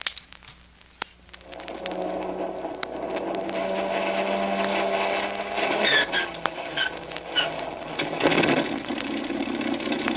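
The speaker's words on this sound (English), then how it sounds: "Here we go with engine number 1." Aircraft engine number one cranks over after a quiet moment, then catches and builds into a loud, rough, continuous roar with rattling mechanical texture, heard close and without voices.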